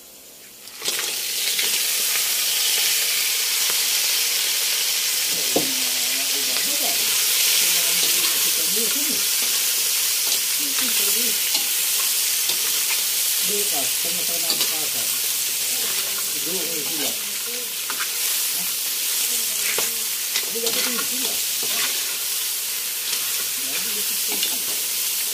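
Onion, garlic and crab sautéing in a pan for squash stew, a loud, even hiss of sizzling that runs the whole time, with someone talking faintly over it in places.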